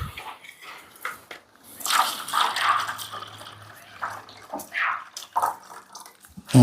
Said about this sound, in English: We're just gonna add water.